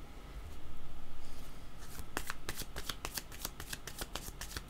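Tarot cards being shuffled by hand before another card is drawn, with a soft riffle first and then a rapid run of crisp, close card flicks that continues to the end, with no voices.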